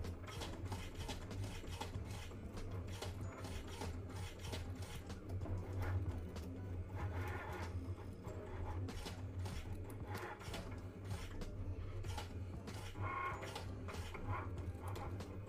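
A Cricut cutting machine runs steadily with a continuous mechanical hum and whirring motor, broken by faint clicks and rubbing sounds, close and unbroken throughout.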